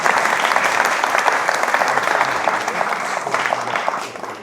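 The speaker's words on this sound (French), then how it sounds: "qu'on pourra applaudir aussi," An audience applauds warmly, many hands clapping in a dense, even patter that holds steady before starting to taper near the end.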